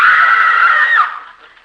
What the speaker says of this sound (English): What are they screaming about?